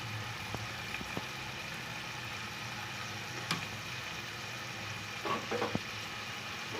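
Ground masala powder stirred in a frying pan, a steady low sizzle with occasional sharp clicks and scraping taps of a spoon against the pan, close and unvoiced.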